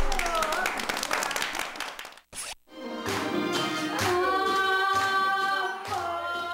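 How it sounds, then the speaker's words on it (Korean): A group of village women clap along in rhythm to a song, with rhythmic hand claps and singing on both sides of a brief gap, voices mixed in. "박수, 박수, 박수"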